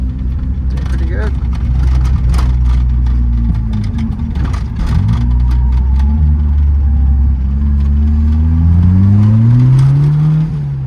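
Toyota Corolla with a 3TC engine revving hard while drifting on dirt, its loud engine note rising and falling through rpm swings close by, with people talking over it.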